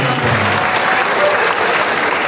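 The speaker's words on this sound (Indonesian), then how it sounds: "Mari kita berikan tepuk tangan." An audience applauds at the official opening of the NCIPS elementary and kindergarten arts show, with a voice heard briefly at first before sustained, even applause from the crowd.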